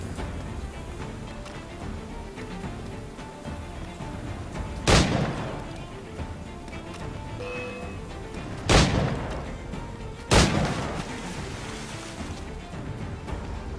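Gunfire from shooting enemies in Assassin's Creed IV: Black Flag: three sharp, loud shots spaced a few seconds apart over a constant roar of sea and wind, with no talk.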